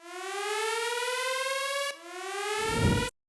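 A loud electronic alarm tone, like a civil-defense siren, blares steadily with stacked harmonics, briefly dips near the two-second mark, swells again with a rough low rumble, then cuts off abruptly.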